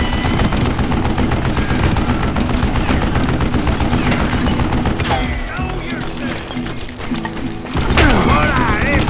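An old man fires a mounted gun in the Western shooter Call of Juarez Gunslinger, a loud rapid rattle of repeated shots with mechanical clanking, dense and continuous, with a voice speaking over parts of it.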